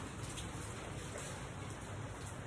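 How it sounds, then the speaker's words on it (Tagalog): Rain falls in a constant, enveloping wash of noise, fairly loud and unbroken, without anyone speaking. "Medyo maulan ngayon."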